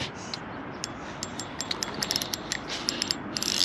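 Fishing reel on a jigging rod being slowly wound in from a boat, a rapid clicking, ratcheting mechanism close up that grows busier and denser, over a broad wash of wind and water noise.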